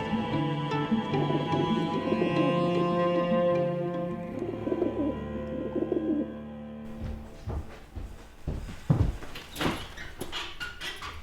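Pigeons kept by a boy in Azerbaijan coo repeatedly in soft, throaty, rolling calls close by, over a droning hum that stops midway, after which clattering knocks and shuffling sounds follow.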